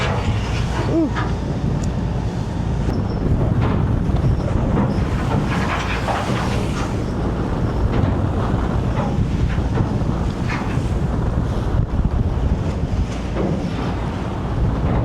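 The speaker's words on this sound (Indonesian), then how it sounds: "Sore ini Pulau Jawa tidak ada henti-hentinya guys, bergoyang ini akibat musim angin tenggara." Strong southeast monsoon wind sweeps across a boat on the rough Java Sea. It makes a loud, continuous roar and buffets the microphone, with waves washing and the hull churning underneath.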